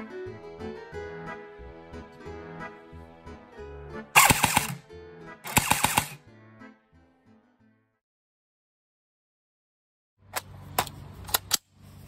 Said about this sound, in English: Out of the shooting part, I have so far not ran into any problems with the gun